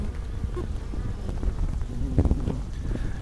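A honeybee swarm cluster hums with a dense, continuous buzz, scattered louder passes of individual bees flying close by over the steady drone.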